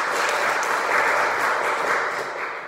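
A church congregation at a Sunday service breaks into sustained, dense applause, loud and even, with many hands clapping together in a reverberant room.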